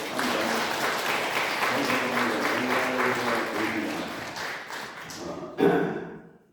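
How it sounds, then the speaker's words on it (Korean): A church congregation at Sunday worship breaks into sustained applause, dense and steady clapping filling the room for several seconds before fading out, with a brief thump near the end. "우리 하나님께 감사와 찬송과 영광의 박수를 올려드리겠습니다"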